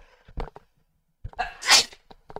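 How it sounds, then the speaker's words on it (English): A single loud, sharp sneeze with a short inhaled lead-in, preceded by a few brief vocal sounds and quiet gaps. "Let me sneeze first."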